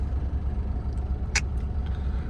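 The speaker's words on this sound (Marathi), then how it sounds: "चाकणला आलं आणि ट्रॅफिक लागली राव." Slow-moving road traffic near Chakan rumbles as a steady low engine drone close by, with a brief higher hiss of a passing vehicle partway through.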